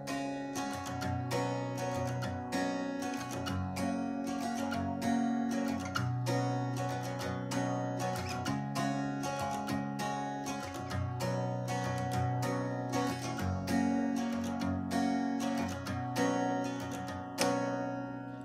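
An acoustic guitar strums a bridge chord progression from B to A2 to E and back, played twice, with steady rhythmic strokes and ringing chords, close and clear with no talking.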